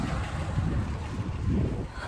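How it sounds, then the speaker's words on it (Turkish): Steady wind roars and buffets across an outdoor microphone, a constant low rumble with gusty swells and no talking. "Çok rüzgar var bir de."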